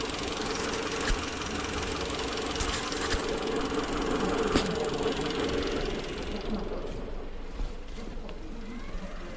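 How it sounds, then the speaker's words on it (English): A car engine idles steadily after a fuel tank cleaning spray treatment, a continuous rough mechanical hum with faint ticking knocks, easing slightly quieter toward the end. "I will stop the engine now."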